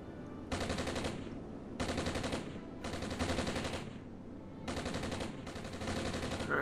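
Gunfire hammers a pillbox in the video game Armored Brigade, in four or five sustained automatic bursts separated by short pauses, loud and close.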